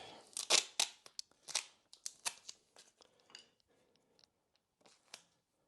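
Tape snipped and handled during a DIY wall heater install, with a quick cluster of sharp cuts and tearing clicks up front, then sparser, softer crinkles and taps trailing off, close and with no voices.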